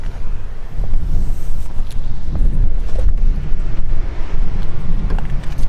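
Strong wind buffeting a microphone outdoors, a loud continuous low rumble with gusty fluctuations throughout, no other distinct sounds.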